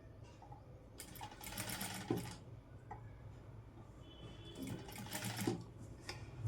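A sewing machine top stitches a Punjabi dress in two bursts of rapid, even whirring stitches separated by pauses, close and fairly quiet, with small clicks as the fabric is handled.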